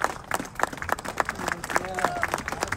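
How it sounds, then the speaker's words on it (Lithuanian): An audience at a live event claps for a group of young women musicians, a quick run of clear individual claps under a speaking voice and crowd murmur. "pasitikite merginas šiltais aplodismentais"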